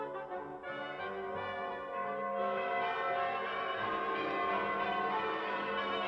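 Church bells of the city of London ring steadily in rich overlapping peals, resonant and sustained, with no voices.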